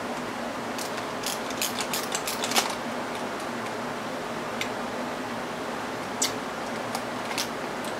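A wrench ratcheting on an RC crawler build, a G-Made Sawback, with light clicking pawl bursts scattered over a steady background hum, close and fairly quiet.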